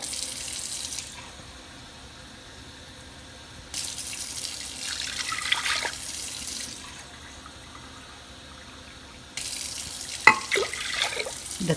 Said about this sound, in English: we are going to add exactly 2 cups of water